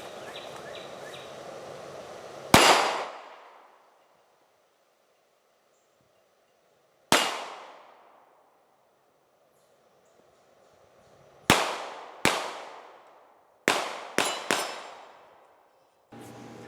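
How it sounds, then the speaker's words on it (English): Kahr CW45 pistol fired during run-and-gun shooting outdoors, a single loud shot, a long pause, then a rapid string of sharp reports, each with a ringing decay. "Here's a little bit of run and gun with this pistol."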